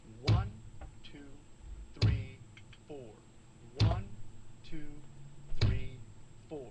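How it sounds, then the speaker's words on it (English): A bass drum on a practice drum pad kit, struck on counts 1 and 3 with no hi-hat, gives four firm, evenly spaced thumps while a nearby voice counts the beats aloud twice. "Now we're going to put the bass drum on counts 1 and 3."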